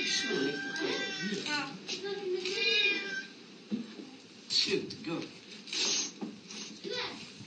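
Cats meow repeatedly around lunchtime in a traditional Berber setting in Morocco, their calls rising and falling under a narrator's continuous voice.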